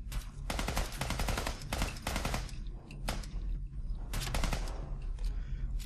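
Rapid bursts of automatic gunfire crackle in the Fallout 4 video game, several long volleys separated by short pauses, loud and continuous over a low background rumble.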